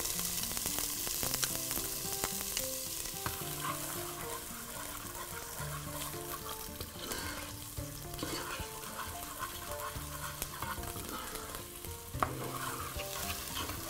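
Onion fries in ghee with a dense, continuous sizzle and repeated stirring scrapes throughout, steady and close with no voices.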